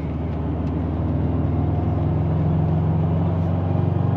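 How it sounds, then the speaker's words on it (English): A car accelerating hard through a second-to-third gear pull, its engine droning loud and close with a rising, steady low roar and no talk over it. "We're gonna do a second to third gear pull."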